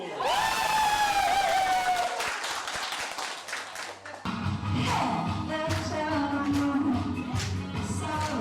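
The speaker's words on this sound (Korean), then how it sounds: "KBS 박수." Studio audience on a Korean KBS Gwangju variety show in Muan County, South Jeolla, clapping and cheering loudly and continuously, with whoops and voices mixed in and music-like tones over the crowd noise throughout.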